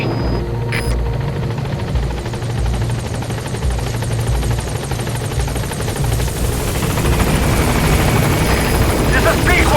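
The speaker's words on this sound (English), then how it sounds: "Support helicopter has arrived." A support helicopter arriving at a landing zone in Metal Gear Solid 5: The Phantom Pain gives a steady, loud rotor thrum and engine drone, with a radio voice speaking over it.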